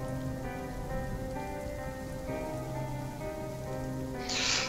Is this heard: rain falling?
yes